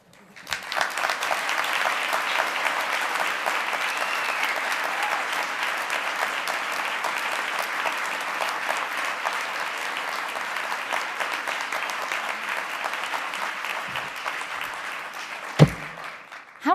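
Sustained audience applause at a women's communications awards ceremony in a Times Square hotel ballroom, a steady dense wash of clapping for over fifteen seconds before a thump and a sudden stop.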